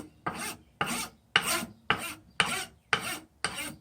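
Seven rhythmic rasping strokes of a rasp across a wooden forging hammer handle, each a rough scraping burst about half a second apart, close and clear.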